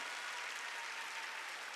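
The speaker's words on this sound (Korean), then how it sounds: "박수 치려면 세게 치라고." During a Sunday worship service, a church congregation claps in steady applause, a soft, even patter of many hands heard from a distance, with no talking.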